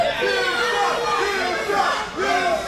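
A wrestling crowd at a live independent show jeers and shouts at a wrestler, a dense, loud wall of overlapping voices rising and falling throughout.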